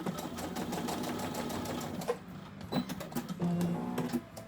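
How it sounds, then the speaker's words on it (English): Domestic sewing machine stitching fabric for a scrunchie, a close, fast rhythmic whirr in short bursts with brief pauses and small clicks between runs. "So I'm going to sew"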